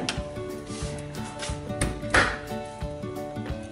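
A loaded household dishwasher in a kitchen gets a series of close clatters and knocks of dishes and fittings, detergent powder added, then one sharper thud as its door shuts. Faint background music plays underneath.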